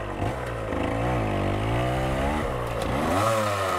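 Yamaha DT175 dirt bike engine revving and pulling hard up a steep wooded hill, the pitch rising and dipping with throttle changes, loud and close throughout.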